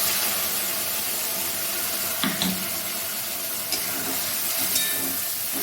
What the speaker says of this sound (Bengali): আর ওই যে মশলাটা আমি একসঙ্গে বেটে রেখেছি মশলাটা ঢেলে দেবো।